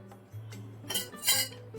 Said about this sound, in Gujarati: તો અહીંયા આપણે એક નોનસ્ટિક પેન લઈ લેશું